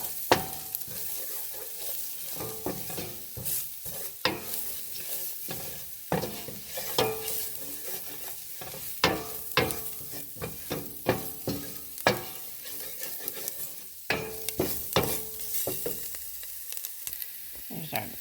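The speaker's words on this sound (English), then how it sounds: "let's give this a little stir" Red lentil coconut curry with spices stirred in a pot, a steady sizzle under repeated scraping strokes of a spoon, close and alone without talk.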